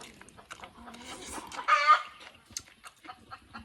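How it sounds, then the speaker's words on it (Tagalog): Chickens cluck and squawk faintly in the background, with one louder bright call near the middle, amid scattered rustling and quiet sounds. "Ingay na manok."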